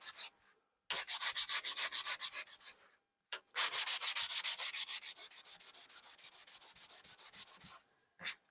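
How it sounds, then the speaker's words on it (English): Hand sanding with very fine grit sandpaper on a pumpkin craft, close rhythmic back-and-forth rasping strokes in quick even runs separated by short pauses. "I think this is a very fine grit sandpaper, so it's taken a while to get this off."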